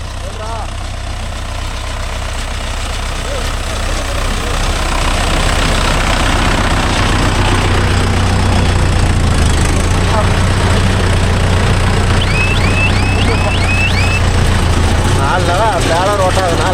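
A Mahindra Yuvo Tech Plus 585 4WD tractor runs a Bharat baler rolling straw, its loud, steady diesel drone and low rumble continuous throughout, with people talking over it and faint chirps near the end.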